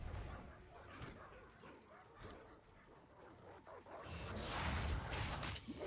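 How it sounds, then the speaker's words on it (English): A small dog in a video game yips and barks a few times at moderate distance, with game ambience and a rising whoosh toward the end. "There's the wee little doggy."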